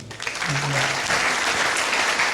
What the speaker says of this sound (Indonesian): tepuk tangan untuk Tuhan Yesus dulu